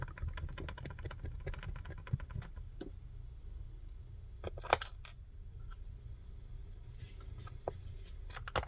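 Keys tapped on a Dell G5 5587 laptop keyboard being tested after a repair for some keys not working. Quick, irregular close clicks and clacks come in bursts with short pauses, and no one speaks.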